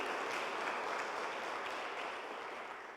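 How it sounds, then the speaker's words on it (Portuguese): A church congregation applauds in praise, dense and continuous clapping that holds steady throughout and tapers off slightly toward the end, with no voices over it. "Pode aplaudi-lo, pode aplaudi-lo"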